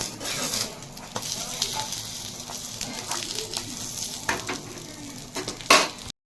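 Naan fries in an oiled pan and is flipped with a spoon, giving a steady close sizzle with occasional scrapes and clinks and a brief louder flip near the end.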